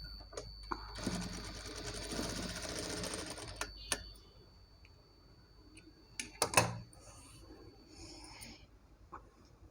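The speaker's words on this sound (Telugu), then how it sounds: "లోపలికి నెట్టేసి ఒక స్టిచ్ వేయండి." Sewing machine stitching a blouse: a close, rapid mechanical whirr of stitching for about three seconds, followed by sparse clicks and handling taps, then a short second burst of activity.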